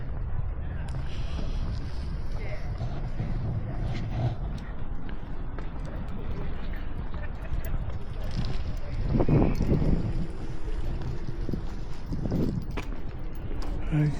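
Cold wind blows steadily across the microphone outdoors at the Royal Woolwich Arsenal, a constant broadband rumble and rush lasting throughout, with some louder gusty bursts near the middle and end.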